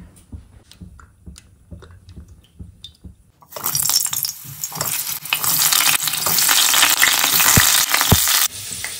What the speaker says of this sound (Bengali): যতক্ষণে আলুগুলো ভাজা হচ্ছে